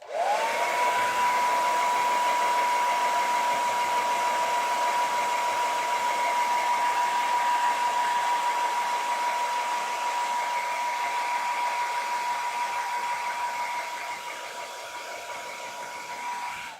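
A hairdryer runs continuously, a loud steady whirring blow with a constant motor whine that holds nearly level throughout, easing slightly softer near the end, with no talking over it.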